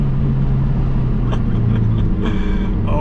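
A tuned Mazda Miata engine drones loudly from inside the car while driving, a steady low rumble with slight shifts in pitch.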